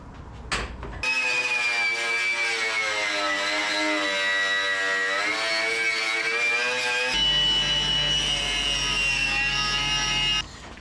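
A wire wheel on an angle grinder whines steadily as it grinds off leftover spot welds in the rusty engine bay of a VW Transporter T4. The high motor drone is close and continuous for about ten seconds and changes tone partway through.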